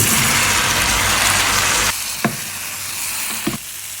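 Aubergine and potato sizzle steadily in a hot pan, loud and close at first, then the frying softens and a few sharp stirring clacks cut in near the end.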